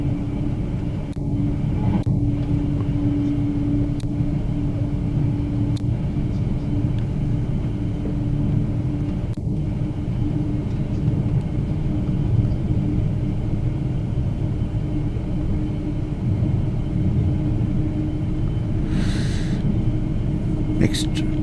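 A mixed freight train of containers and flat wagons rolls past a moving passenger train, heard as a steady low rumble with faint clanks and a brief hiss near the end, while someone talks over it.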